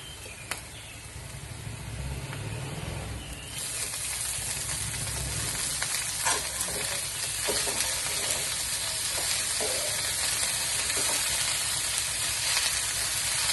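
Onions and spinach frying in a pan, a steady close sizzle with bursts of crackle and occasional stirring scrapes running throughout, growing denser after the first few seconds.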